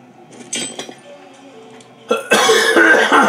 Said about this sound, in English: Why can I not stop coughing?